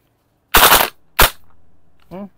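An airsoft AK74-style rifle fires a three-round burst, loud, close sharp cracks in quick succession, followed by a short mechanical whir.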